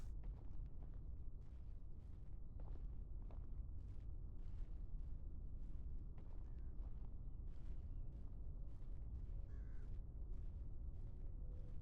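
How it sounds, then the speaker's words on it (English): Crows cawing in the medieval video game Medieval Dynasty, scattered harsh calls over a low rumbling ambient bed, fairly quiet and spread across the scene with no talk. "And now it's all about the crows."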